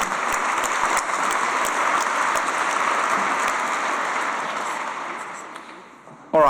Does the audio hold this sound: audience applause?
yes